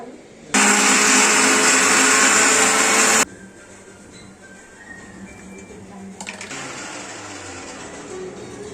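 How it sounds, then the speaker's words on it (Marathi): A mixer grinder churns black masala for a Marathi chicken gravy, roaring loud and steady for about three seconds before cutting off, leaving quieter kitchen noise and a softer hum afterward. "तर मित्रांनो, वेळ आलेला आहे मसाला बारीक वाटून घेण्याची मिक्सरमध्ये."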